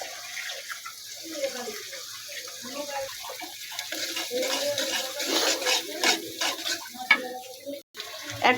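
Two eggs are added to noodles frying in a pan in a village kitchen and stirred, giving a watery sizzle and scraping that builds over time while people talk throughout.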